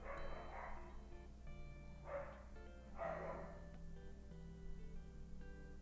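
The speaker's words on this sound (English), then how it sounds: "My dogs are fighting downstairs" Dogs fighting downstairs, heard faintly from another room as a few short bursts of barking and yipping over a steady low hum.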